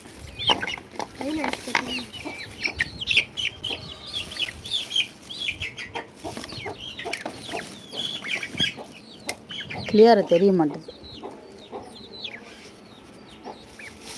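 Free-range country chickens cluck and squawk near a feed spot, with one louder burst of clucking partway through, while someone talks over them throughout.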